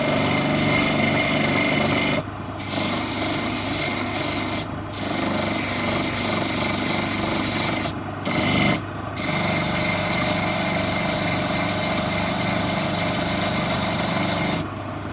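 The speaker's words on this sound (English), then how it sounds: "I think that's the first lot of sanding down" Sanding down miniature display plinths for painted figures, a steady, loud rubbing rasp that runs almost continuously, broken by a few brief pauses where the abrasive lifts off the work.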